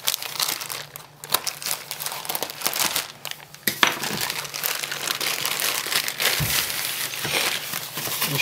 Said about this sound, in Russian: все пришло в таком длинном пакете. Открываем аккуратно, чтобы не повредить.